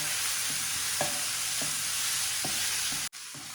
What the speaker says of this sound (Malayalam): തക്കാളി ഇത് മൂന്നും കൂടി നന്നായിട്ടൊന്ന് വഴണ്ടി വരട്ടെ